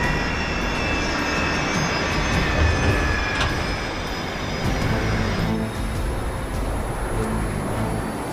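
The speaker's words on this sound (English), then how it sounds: "So far, the plane is slowing." A Sichuan Airlines airliner slows on approach with its landing gear coming down, a loud, continuous engine roar with a high whining tone that shifts about halfway through.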